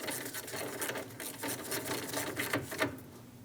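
Nut being snugged onto a ground strap post during cooling fan replacement on a 2016-2025 Chevrolet Malibu 1.5L L4, heard as a steady close run of fine rapid ratcheting clicks with no talk.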